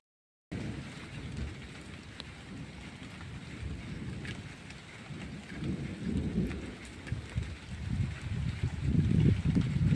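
Heavy rain pours steadily while low rumbling gusts and thunder build and swell louder toward the end, with no voices.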